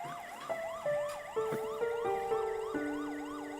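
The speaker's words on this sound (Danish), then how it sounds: "Jeg kan høre sirenerne." Emergency vehicle sirens wail together in repeated rising and falling sweeps that shift in pitch as they approach, loud and continuous with no voices.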